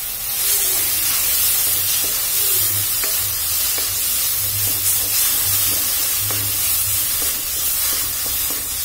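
Turmeric, salt and spices fry in a pan over a low flame, giving a loud, continuous close hiss and sizzle with faint stirring scrapes underneath.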